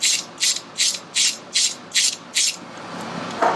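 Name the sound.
putting a nut on a bolt, double nutting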